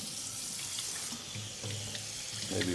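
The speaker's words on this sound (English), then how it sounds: "I'm just gonna rinse this off." Tap water runs steadily into a kitchen sink while vegetables are rinsed during gumbo prep, a close, continuous splashing hiss with no talking.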